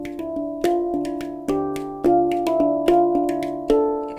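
A hang drum (handpan) played with slap notes: close, resonant metallic tones ring and overlap in a steady pattern of about a dozen strikes, several marked by sharp, crisp slap accents. No voices are heard.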